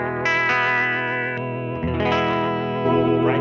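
Guitar through an Origin Effects MAGMA57 vibe and drive pedal on its darker EQ2 setting, sustained overdriven chords with a swirling, chorus-like modulation, loud and steady with no talking.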